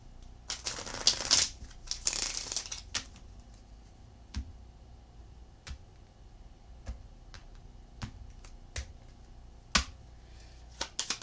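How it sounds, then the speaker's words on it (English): Tarot cards are shuffled close up in a quiet room, with two quick riffling bursts followed by scattered soft taps and clicks as the deck is squared and handled. "One more shuffle."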